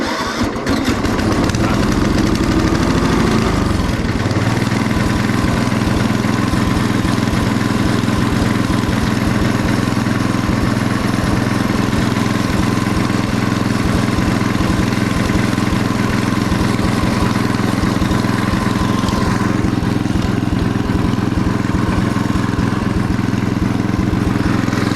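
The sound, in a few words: rebuilt lawn mower engine idling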